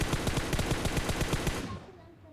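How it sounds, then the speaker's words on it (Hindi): Automatic gunfire from a military battle video game fires as a rapid, loud burst of evenly spaced shots for about a second and a half, then cuts off into a fading tail. "लेफ़्ट से जो फायरिंग आ रही है"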